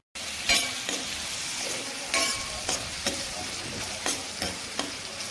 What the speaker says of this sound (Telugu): ప్యాన్ లోకి తగినంత నూనె పోసి ముందుగా కట్ చేసుకున్న ఉల్లిపాయ ముక్కలను వేసుకుని బాగా వేయించాలి